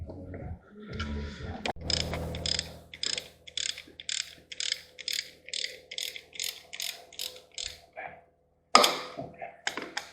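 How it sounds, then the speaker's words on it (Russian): Ratchet with a Torx T30 socket loosening bolts on a Jeep Grand Cherokee WJ 2.7 CRD Mercedes engine, a steady run of close, crisp clicking strokes after some handling noise, with a voice briefly heard. "берем головку, звездочку Т-30, откручиваем болты"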